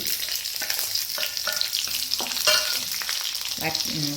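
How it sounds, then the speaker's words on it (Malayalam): Green chillies, garlic and ginger sautéing in a pan of hot oil with fenugreek and curry leaves, for a tomato curry: a steady close sizzle broken by repeated scraping stirs, with no talking. "പച്ചമുളക് ഒന്ന് വഴറ്റിയെടുക്കാം"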